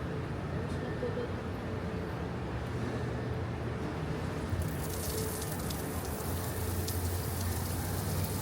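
Steady hiss of running water pours without pause, like a shower spraying nearby, with a faint background hum.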